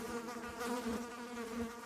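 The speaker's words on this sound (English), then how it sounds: "Hundreds of them, buzzing around the stainless steel Frigidaire." Flies buzz continuously in a dense, droning swarm around a stainless steel Frigidaire refrigerator, a close, steady hum without pauses.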